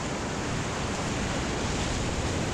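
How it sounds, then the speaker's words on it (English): Long river rapids in Tallulah Gorge give off a continuous, even rushing roar of whitewater with no voices over it. "There's one of the longest rapids on the river"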